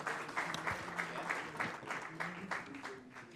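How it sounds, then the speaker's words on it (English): Faint, distant applause from a ceremony audience at the Commonwealth People's Forum opening, with clapping pulsing unevenly beneath a voice talking over it. "Round of applause for her."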